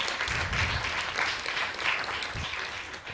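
Steady applause from a temple congregation at ISKCON Dallas, continuous fairly soft clapping filling the whole moment without pause.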